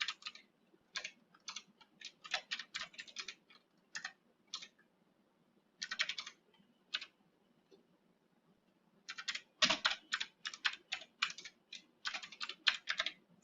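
Keys clatter on a computer keyboard as a form is filled in, quick bursts of close clicking typing separated by short pauses, with a longer gap midway before a dense final run.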